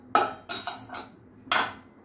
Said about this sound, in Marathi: मी कुकर उघडते आता.